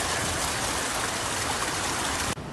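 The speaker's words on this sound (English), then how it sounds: "And this was the Pequessing Creek" Pequessing Creek flowing steadily, a dense continuous wash of rushing water heard close up and loud, cutting off abruptly at the end.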